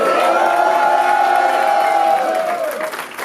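A crowd at a French rap battle tryout cheers, whoops and applauds loudly and continuously. The sound fades slightly toward the end.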